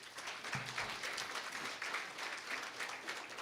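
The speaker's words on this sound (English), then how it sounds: "Let's give him a round of applause." An audience at a chiefs' education forum applauds in a steady, distant wash of many hands clapping, faint and continuous throughout.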